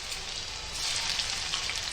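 Garlic sizzling in two tablespoons of hot oil for a tadka in a Konkani bhindi bharta, a steady, close, even crackle and hiss that holds throughout with no talking.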